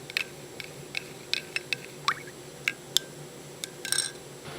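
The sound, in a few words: stirring tea in a cup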